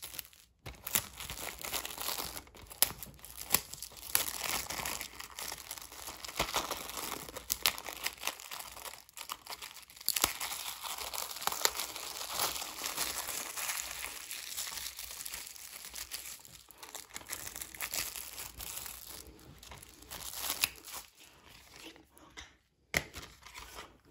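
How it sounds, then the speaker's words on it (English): Packaging of a Spawn (1997) Director's Cut DVD is unwrapped and opened: long stretches of close, steady crinkling and crumpling with occasional sharper tearing snaps, no voices. "It's a Spawn Director's Cut on DVD. Let's get it open."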